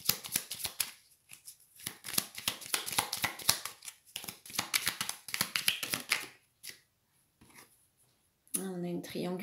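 Tarot cards shuffled for a reading make rapid crisp riffling and flicking close by, continuous for about six seconds before pausing, with a voice speaking at the end.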